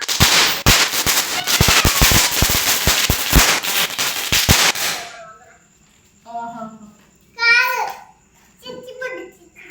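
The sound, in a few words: ground spinner firecracker (bhoochakram) burning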